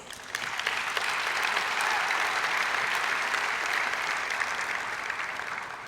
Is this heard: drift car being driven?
no